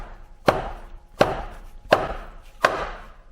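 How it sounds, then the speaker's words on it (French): Four heavy mallet blows on a Fiesta ST oil pan while fitting an anti-surge baffle, evenly spaced sharp metallic thuds with short ringing decays, close and loud, no talking. "Coup de maillet."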